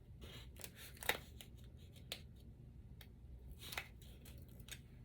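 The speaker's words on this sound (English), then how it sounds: "Probably better to use my micro scissors because that's a little bitty" Small micro scissors snip paper for a scrapbook page, a few quiet, crisp cuts with pauses between them in a hushed room.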